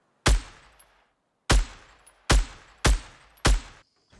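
Five sharp, loud gunshots from the video game Fortnite, fired singly at irregular intervals with short decaying tails and brief silence between.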